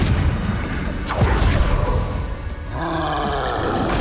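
A Confringo fire spell explodes in the Hogwarts Legacy video game, a loud roaring blast with a deep booming body that swells and then rumbles on steadily.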